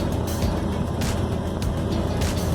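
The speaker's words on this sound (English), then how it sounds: "This is second gear. It sounds like it's gonna explode." A 1956 Chevy's engine roars loudly in second gear while driving, a steady, strained drone with broad rushing noise, close and continuous with no talk.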